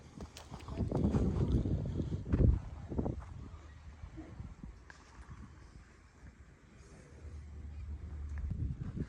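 Strong wind gusting across an open, exposed field, with blustery rumble and buffeting against the microphone, loudest in the first few seconds, easing off and then building again near the end; a voice speaks briefly early on.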